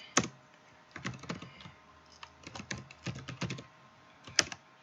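Typing on a computer keyboard while coding a JavaScript webpage template, with bursts of sharp clicking keystrokes in uneven clusters, close and fairly loud with no talking.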